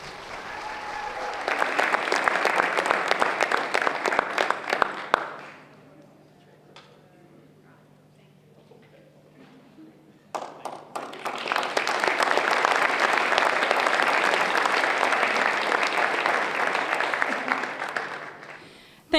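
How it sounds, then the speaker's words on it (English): An audience at a partnership celebration dinner bursts into loud sustained applause for about four seconds, fades to near quiet, then swells into a second long round of dense clapping. "Now let's give a round of applause to the Midwest Machine Tool Training Center and St."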